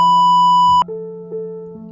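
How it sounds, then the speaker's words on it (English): A heart monitor tone holds one steady electronic pitch for most of a second, then cuts to a softer, lower sustained tone that shifts pitch slightly a couple of times, clean and loud with no voices. "that's the sound of heart monitor flattening."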